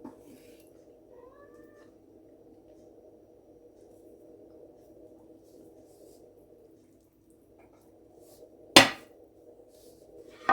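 A cat gives a short, faint meow early on in a quiet kitchen with a steady low hum, and a sharp loud knock sounds near the end.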